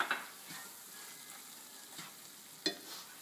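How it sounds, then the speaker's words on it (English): Diced tomatoes going into a warmed curry base in a pan over medium heat for egg bhurji, a quiet steady sizzle with a few soft stirring scrapes, close by and without talk. "So to this I'm going to add my 2 diced tomatoes"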